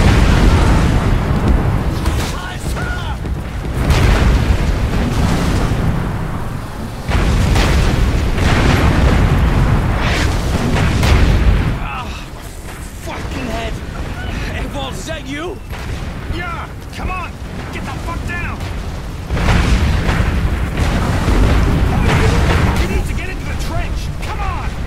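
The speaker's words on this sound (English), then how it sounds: "Incoming artillery fire!" Incoming artillery fire in the top-down stealth video game War Mongrels, with loud booming blasts and rumbling impacts repeating over about twenty-five seconds and shouted voices mixed in.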